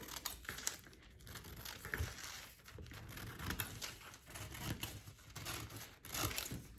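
Paper sewing pattern piece being cut out by hand, a steady crinkly rustle of paper with small snips and handling noises, close and fairly quiet, with no talking.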